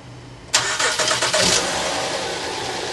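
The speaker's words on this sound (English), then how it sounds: "we'll go ahead and start the car" A Honda Odyssey minivan engine starting after a serpentine belt replacement: a sudden crank and catch, a few surging revs, then a steady idle, loud and close.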